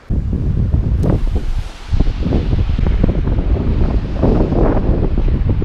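Strong wind on Crete buffets the microphone in a steady, loud roar with gusty low rumbles throughout, briefly easing for a moment before blowing hard again.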